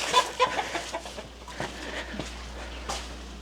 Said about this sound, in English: The chickens are laughing at you.